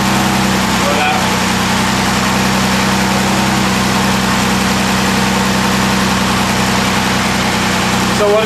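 An Austin Healey engine with tri SU carburettors idles steadily with air rushing through an open carburettor, a loud constant hum and hiss up close with no change in rhythm.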